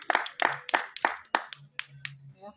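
An audience at a political talk on Gabon applauds in a short, sparse burst of distinct, sharp claps that quickly thin out and fade.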